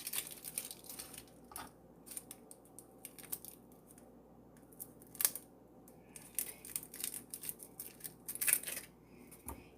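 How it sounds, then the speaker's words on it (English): A knife chops onions into long slices on a cutting board, giving faint, irregular crisp taps and cuts that come closer together toward the end, all at low volume with no talk. "So we're going to chop all of these onions."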